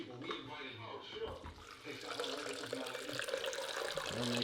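Tap water runs into a container while mixing a pre-workout drink, a steady splashing stream rising in pitch as it fills, with someone talking over it.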